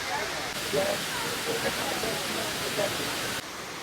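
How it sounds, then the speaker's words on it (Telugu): Rushing water at Jhari waterfall in the Chikmagalur hills fills the air with a steady, broad roar, a voice speaking briefly over it. "వాటర్ ఫాల్ సౌండ్ వినిపిస్తుంది."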